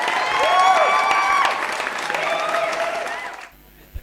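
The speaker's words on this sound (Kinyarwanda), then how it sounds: "Amashyi menshi cyane kuri Joshua." Audience applause for comedian Joshua at a live comedy show, a burst of clapping and some cheering from the crowd, with a brief pause in the middle before it swells again and cuts off abruptly near the end.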